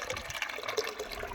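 Tap water gushes and splashes into metal water pots, filling steadily, close and continuous with a bright watery hiss.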